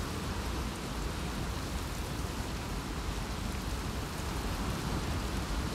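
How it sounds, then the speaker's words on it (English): Steady rain falls in the game Uncharted 4: A Thief's End, a dense, even hiss of close, moderately loud downpour that runs unbroken through the whole stretch with no voices. "It's starting to rain, I think."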